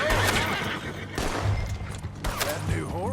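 A horse whinnies in Red Dead Redemption 2, several loud neighs and snorts across a few seconds, mixed with thuds and bursts of game noise.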